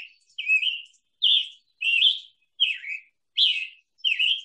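Wild birds sing around a spring yard, with six clear, bright chirping phrases repeating in a steady rhythm, separated by short pauses, close by and alone without talk.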